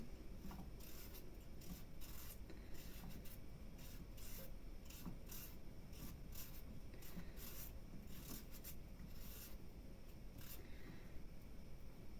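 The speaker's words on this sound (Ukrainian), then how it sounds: "Начищаємо картоплю." A peeler scrapes rapidly and repeatedly over a potato, a steady rasping rhythm, faint and close, with no talking.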